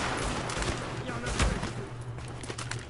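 Submachine gun fire in the video game The Division, rapid clattering bursts mixed among other gunfire in a busy firefight, with someone talking over the shooting.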